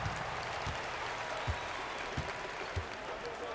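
An arena crowd in a basketball video game cheers and applauds after a win, a steady wash of clapping and crowd noise at moderate level with soft thumps and a commentator talking over it.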